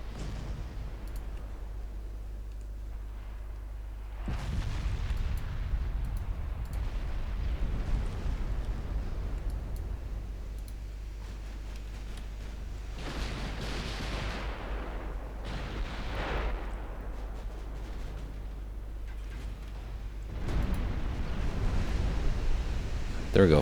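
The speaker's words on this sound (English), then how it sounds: "Gonna try one more torpedo launch from Liziba and Pingu." Naval battle in Ultimate Admiral Dreadnoughts with a torpedo launch and explosions: deep rumbling booms and surging blasts repeat through the span, loud and heavy over a constant low drone, with a voice speaking now and then.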